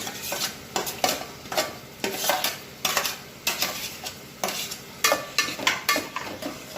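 Onions frying in a pan with garlic-chili paste for a gram-flour dumpling curry, with a spoon clattering and scraping against the pan in steady repeated strokes over a soft background sizzle, close and fairly loud.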